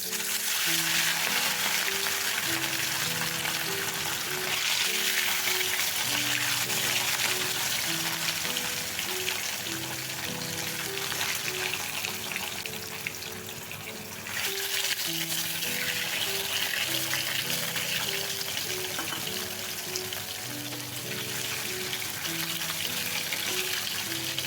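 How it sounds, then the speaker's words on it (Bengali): Rohu fish frying in hot mustard oil in a wok, giving a steady, dense sizzle that stays close and continuous throughout, with no talking. "এরপর আমি মাছগুলো ভেজে নেব।"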